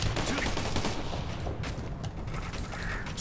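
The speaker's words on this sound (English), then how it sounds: "We're getting shot at." Dense, continuous gunfire and fusillade from a firefight in Operation Flashpoint: Red River, steady bursts and distant booms filling the whole stretch without pause.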